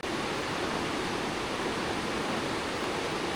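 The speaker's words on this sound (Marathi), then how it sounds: "पावसाने हाहाकार माजवला आहे. पाऊस भरपूर आहे." Heavy monsoon rain beside a flooded river, a loud, dense, unbroken roar of falling water and rushing current, steady from start to finish with no voices.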